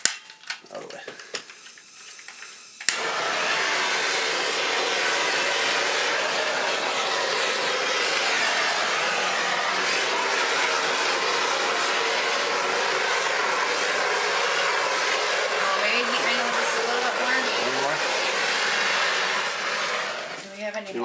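Propane torch heating epoxy on a kitchen countertop, a steady close hissing roar that starts abruptly after a few seconds of quiet shuffling and runs unbroken before cutting off near the end.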